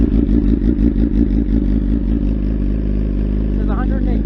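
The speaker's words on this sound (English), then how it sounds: "let me see what we get for a startup. GP Shorty DB." A BMW S1000RR motorcycle with Akrapovic headers and a GP Shorty muffler idles close and loud with a deep, lumpy, pulsing exhaust note, while a voice talks over it.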